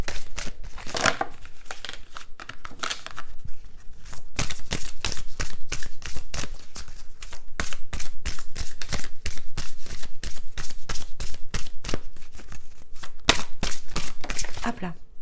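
Native American heart oracle cards shuffled by hand, a rapid run of crisp, close riffling snaps that goes on continuously, briefly pausing near the start.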